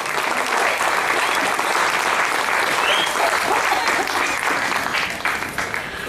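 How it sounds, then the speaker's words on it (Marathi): A lecture-hall audience at a Marathi talk series bursts into loud, sustained applause, a dense wash of many hands clapping that fades slightly near the end. "जरा जोरात टाळ्या होऊन जाऊ देत"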